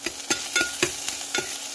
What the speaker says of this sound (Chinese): 再炒出香味